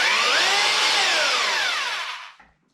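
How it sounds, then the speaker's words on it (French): A HiKoki (Hitachi) DH26PC rotary hammer drills in rotation-only mode with its bit spinning, a loud steady high-pitched whine that slowly drops in pitch and winds down to silence near the end. "Donc le premier, c'est le forage. Vous allez voir, la mèche va tourner"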